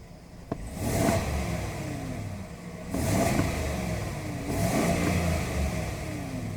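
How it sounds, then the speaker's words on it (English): A 2020 Chevy Silverado LT engine, held back by a rev limiter at about 3,000 rpm, is revved three times in a row. Each rise swells into a loud roar before settling back to a steady idle hum, with no talking. "let's give her a few revs here to listen to that a bit"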